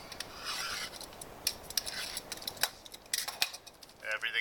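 Crinkly rubbing and rasping of packaging being peeled and handled while unwrapping a Nest thermostat, in short irregular bursts with scrapes and light taps, fairly close and quiet.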